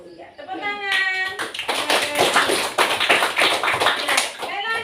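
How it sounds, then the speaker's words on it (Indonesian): Schoolchildren clapping together in an Indonesian classroom, a dense burst of many hands patting in quick uneven rhythm after a teacher's voice, fading as another voice returns at the end. "Ya, tepuk tangan."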